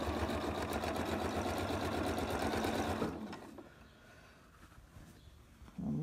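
Janome sewing machine with a quilt binder attachment stitching quilt binding, a fast steady mechanical whir running loud and close for three seconds, then stopping, before starting again briefly.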